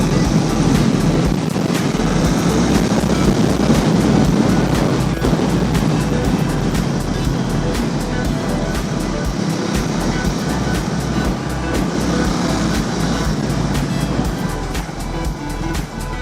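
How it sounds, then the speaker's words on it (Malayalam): A Triumph T4 motorcycle's exhaust while riding, a loud, steady drone mixed with rushing wind noise that holds level throughout with no pauses. "എക്സോസ്റ്റ് തന്നെയാണ് ഇങ്ങനെ മികച്ചു നിൽക്കുന്നത്."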